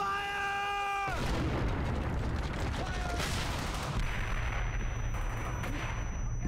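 Gunfire from a World War II squad battle in Brothers in Arms: Hell's Highway, a dense run of booming shots and blasts that fills several seconds after a brief tonal chime.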